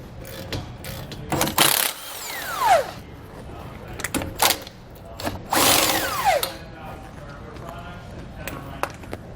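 An electric impact gun works on the nuts of leaf spring U-bolts during a suspension job on a 2013 Dutchmen trailer, firing in several short whirring and rattling bursts with pauses, close and loud, while someone talks between them.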